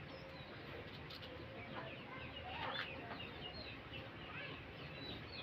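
A rooster clucks at a rural home while a woman weaves a charpai nearby. The calls are faint and scattered, set back in a steady, noisy background across the whole stretch.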